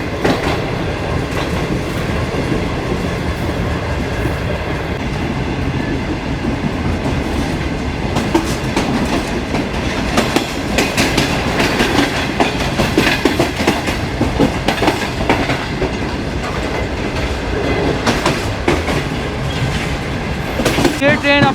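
The Shalimar Express rolls on the rails through Karachi toward Dig Road Junction, a loud continuous rumble with rhythmic clickety-clack of wheels over joints heard from on board, steady throughout.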